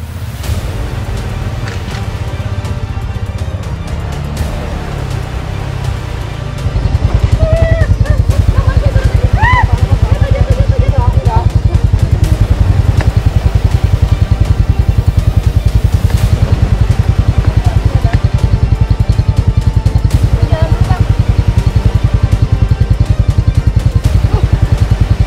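A motorcycle loaded with stones rolls down a very steep dirt path in the hills of Aceh Jaya, Indonesia. Its engine drones loud and steady, rising sharply after a quieter start and mixed with rattling clatter.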